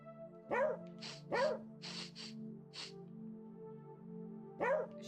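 A dog in a video game barks in three or four sharp, clear bursts spread across the stretch, with a steady low game hum running underneath and no talking.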